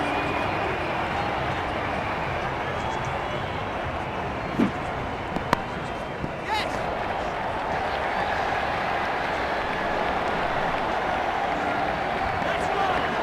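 Crowd cheering and applauding at a cricket test match in the video game Ashes Cricket 2009, a dense, sustained roar of applause with a few sharp claps standing out, steady and fairly loud throughout.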